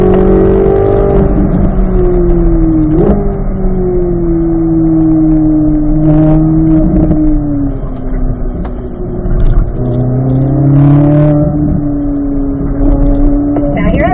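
A car accelerates around a track, its engine note climbing and dropping as it shifts up through the gears, loud and steady from inside the cabin while an instructor talks over it.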